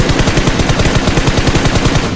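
Rapid automatic gunfire from the video game BGMI rattles in a loud, continuous burst of closely spaced shots lasting about two seconds.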